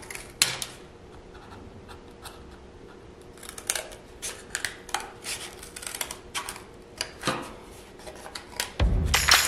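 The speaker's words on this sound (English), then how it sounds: "is cutting the cardboard to create our monogram" Scissors snip through cardboard in a run of short, crisp cuts at close range, trimming out the fine detail of a monogram letter, with a louder rustle of handling near the end.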